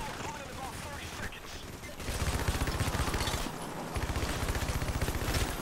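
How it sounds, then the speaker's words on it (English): Rapid automatic gunfire from a machine gun in the video game Payday: The Heist, loud sustained bursts with short pauses, layered over busy game action and a faint voice. "I like this machine gun."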